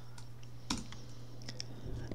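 Typing a command on a computer keyboard in an Ubuntu desktop terminal, a few crisp separate key clicks over a low steady hum.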